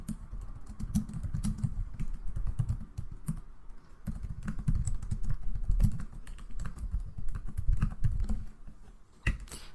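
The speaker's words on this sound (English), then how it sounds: "So we'll type import OpenAI, then define our authentication key." Computer keyboard clattering as code is typed, a fast, irregular run of close key taps with short pauses, quiet and without talk.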